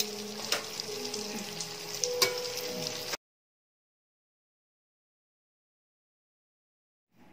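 Rice wrapper rolls frying in oil over a medium-high fire give a steady close sizzle with small pops for about three seconds, then the sound cuts to silence.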